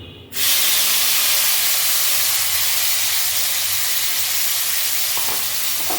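Onions and chopped tomato fry in a pan with a loud, steady sizzle that starts abruptly and holds as a broad hiss throughout, with a faint clink near the end.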